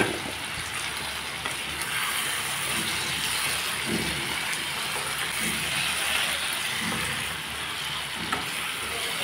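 Paneer fries with spices in a pan, making a steady, even sizzle that hisses continuously without a break.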